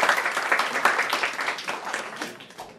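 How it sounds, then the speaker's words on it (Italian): An audience at an Italian poetry book presentation applauds a speaker, a warm, dense round of clapping close by that rises quickly and then gradually thins out toward the end. "Un bel applauso per la dottoressa Freno."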